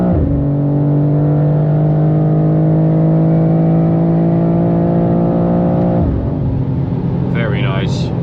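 A BMW M2 G87 accelerates hard in fourth gear on the Autobahn, its engine a loud, steady drone rising gradually in pitch for about six seconds before easing off, with wind roar throughout and a brief voice near the end.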